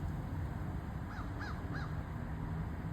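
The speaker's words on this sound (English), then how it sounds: "Now that's a lot of crows." Three short caws from crows, somewhat distant, sounding over a steady low outdoor rumble with no one speaking.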